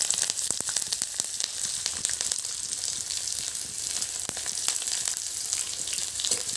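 Chopped onions fry in a pan with jackfruit seeds, giving a continuous dense sizzle and crackle, close and even throughout, with no voices.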